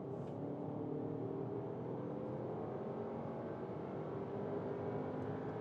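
A Skoda Kodiaq vRS accelerates from 80 to 130 km/h, heard from inside as a steady muffled engine drone with a slowly rising tone under road and wind noise.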